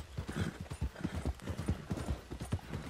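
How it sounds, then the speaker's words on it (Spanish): A horse's hooves clip-clop in a steady, brisk rhythm in Red Dead Online, close and clear, with no speech over them. "Venga, no te canses, querido caballo."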